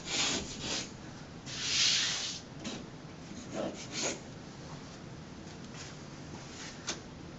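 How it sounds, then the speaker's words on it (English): Sandpaper rubs across a wall in uneven strokes, smoothing it and knocking off small bumps before wallcovering is hung; a close, steady scratchy hiss with a few louder passes. "some sandpaper and just make sure the whole wall is nice and smooth. Scrape off any little bumps."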